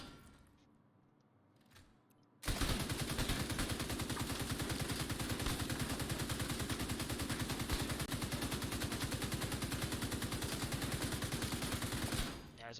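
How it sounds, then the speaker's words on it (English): An assault rifle in The Division 2 fires nonstop at a target board, a dense, loud, rapid stream of automatic shots lasting about ten seconds after a quiet start. "you can shoot one board endlessly till you run out of ammo"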